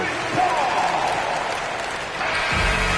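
Arena crowd in an NBA 2K23 basketball game cheering and applauding in a steady roar, with commentary talking over it and a brief thump near the end.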